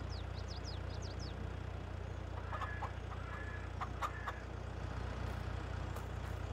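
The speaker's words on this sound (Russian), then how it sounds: "Так, курочки, давайте, продолжайте" Chickens clucking in the Farming Simulator 22 game, a few short calls rising over a steady low engine drone, with quick chirps early on.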